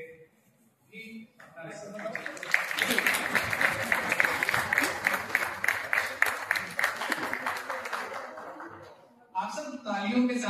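An audience at a teacher training programme claps together for several seconds, with talk before and after; the applause is moderately loud and rhythmic.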